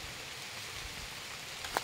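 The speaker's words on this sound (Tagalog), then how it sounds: "Grabe, basa lang kami mga kapangit. Lakas ng ulan." Heavy rain pours steadily outdoors while bamboo is being gathered, a dense, constant hiss with one brief sharper tap near the end.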